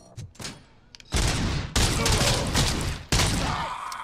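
Bursts of gunfire in the video game RoboCop: Rogue City, with loud sustained volleys and a sharp restart near the end, following a few quieter shots at the start.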